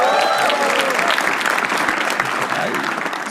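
A comedy show audience gives a loud, full round of applause, dense clapping that holds steady then begins to taper toward the end.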